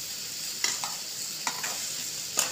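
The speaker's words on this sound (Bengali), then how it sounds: "দেখো এবার আমি একসাথে নেড়ে দিলাম" Egg khichdi ingredients are stirred together in a pan over a low steady sizzle, with a handful of crisp spoon scrapes and taps spaced irregularly.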